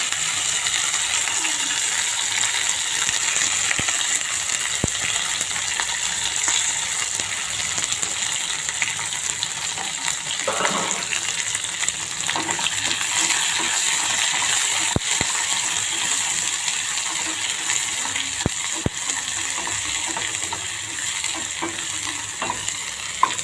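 Chopped onions and curry leaves sizzle steadily in a hot pan for a green-gram gravy, a constant close frying hiss broken by occasional scrapes and taps of a stirring spoon.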